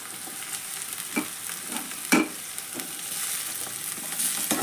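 Onion and tomato frying in oil in a pan, a steady sizzle with a few louder stirring scrapes and clicks, no voices.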